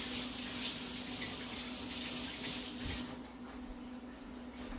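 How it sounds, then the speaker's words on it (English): Running tap water pours steadily into a sink as hands are rinsed, a close, dense hiss with a faint hum beneath it that dips slightly toward the end, with no talking. "I'm just going to go and rinse my hands off"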